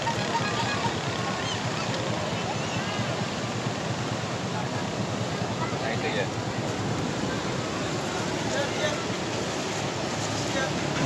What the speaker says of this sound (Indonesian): ombaknya terus menggulung